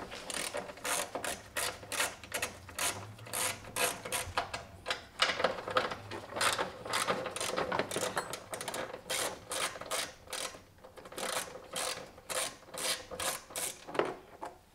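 Ratchet wrench undoing 10 mm bolts on the valve cover of a Kia Optima 2.4L GDI engine, a steady run of rapid clicking ratchet strokes in bursts, close and clear with no talk.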